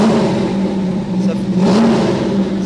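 Car engine fitted with three rebuilt carburetors idling close by, a loud steady low hum with slight fluctuations in pitch throughout.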